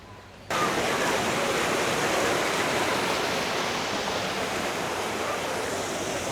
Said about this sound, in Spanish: ahí tenemos otra vista desde abajo de las cascadas